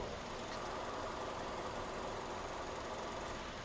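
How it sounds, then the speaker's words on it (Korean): A Kia Pride (All New Pride) car engine idles steadily, heard up close at the front grille, a smooth, even hum with faint whirring and no other noises. "여기 앞에 그릴 쪽으로 갖다 대고 들려드릴게요."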